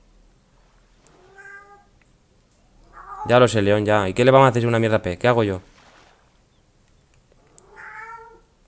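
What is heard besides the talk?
cat meowing, hungry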